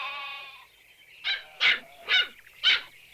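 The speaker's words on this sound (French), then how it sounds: "Eh bien, Puggy, qu'est-ce qu'il y a? Pourquoi tu aboies?" In the cartoon Bouba le petit ourson, a dog barks four times in an evenly spaced series after a short whine, the barks close and fairly loud with brief quiet gaps.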